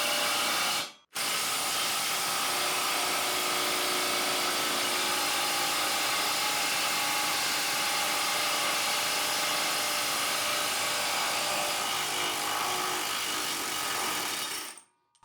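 Hercules cordless impact driver hammering at its 1,000 inch-pound maximum to break loose a stubborn bolt, a loud continuous rapid rattling roar held for about fourteen seconds after a brief pause, then cutting off.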